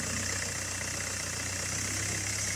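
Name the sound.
Mercedes-Benz engine starting and idling after water pump replacement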